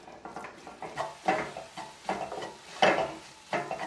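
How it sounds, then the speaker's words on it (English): A utensil stirs flour cooking in a pot on the stove, giving soft, irregular scraping strokes against the pan with a faint sizzle, close by and without talk. "You want to cook out the rawness of that flour, so keep stirring it."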